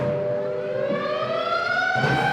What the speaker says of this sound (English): the Banshee wail of the siren echoes the warning